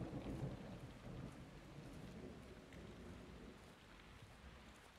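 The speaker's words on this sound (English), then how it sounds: "It's raining fucking hard." Heavy rain and rolling thunder in the video game Modern Warfare 2, a dense steady downpour hiss with deep low rumbles strongest at the start, fading slightly, no voices.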